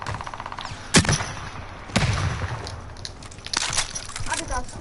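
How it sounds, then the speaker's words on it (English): Video game weapons fire including a rocket launcher, several sharp loud blasts at about one and two seconds and again near three and a half seconds, each followed by ringing debris and a rattle of smaller shots in between. "Someone shot a rocket launcher."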